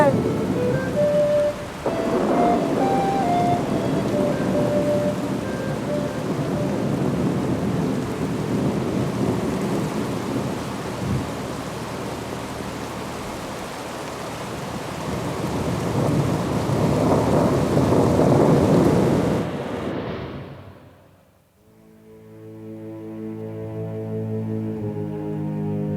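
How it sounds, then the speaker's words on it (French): A stormy downpour roars steadily as heavy rain pounds a surface, with deep rolling thunder swelling and fading before the storm cuts off abruptly, followed by quieter tonal sound. "plus Galahad s'enfonce dans la tempête, plus l'obscurité s'épaissit"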